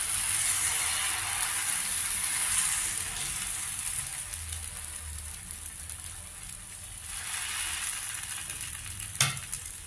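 Millet dosa batter sizzling on a hot pan, a steady close hiss that runs alone for the whole stretch, swelling and easing slightly, with one brief sharp tap near the end.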